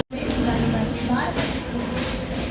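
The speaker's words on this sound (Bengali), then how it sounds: "হাওড়ার মতন লোকাল ট্রেনে উঠে পড়েছি" Mumbai local train on the Central Railway line, carriage noise rumbling steadily and loudly from inside the moving coach, with wheel rattle and faint chatter from passengers mixed in.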